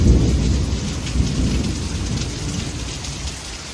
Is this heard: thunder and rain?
yes